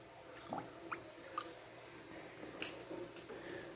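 Small wet squishes and drips from rinsing a metal piece in liquid, quiet and close, with a handful of soft sloshing splashes spread unevenly across the moment and no speech.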